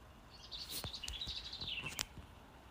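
Birds chirping in the dark at 3:18 in the morning: a few faint, distant high tweets and a longer warbling trill, with light background hiss and no voices.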